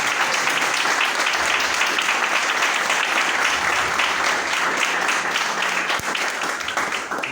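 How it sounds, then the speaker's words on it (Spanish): A congregation gives sustained welcoming applause, a steady wash of many hands clapping for several seconds at an even level. "quiero que le den un aplauso de bienvenida a Marcelita"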